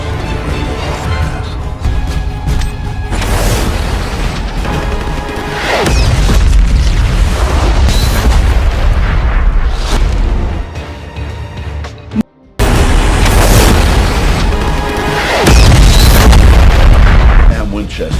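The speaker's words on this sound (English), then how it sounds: "Eddie tries to assist Kinney with an airstrike that literally saves his life" Video-game airstrike with heavy bombs dropped about 300 meters west onto enemies, heard as a loud, continuous series of deep booming blasts and rumbling that run nearly throughout, with a brief cutout partway through.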